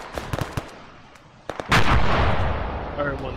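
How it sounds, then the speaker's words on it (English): An RPG launch in ARMA 3, a sudden heavy blast after scattered sharp gunshots, followed by a sustained loud roar and rumble that slowly fades, up close. "We got more contacts coming in, I'm firing RPG at them."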